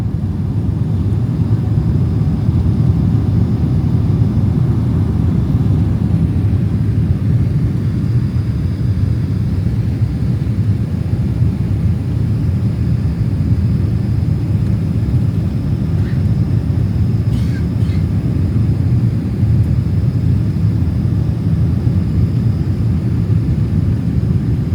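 Inside the cabin of a United Airlines Boeing 777-200 on approach to Chicago's runway 10 center, a constant deep engine and airflow rumble drones on, with a faint brief mechanical whine partway through.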